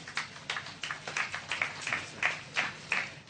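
Audience applause at a public gathering, a few seconds of soft, moderately distant clapping with repeated swells, no talk over it.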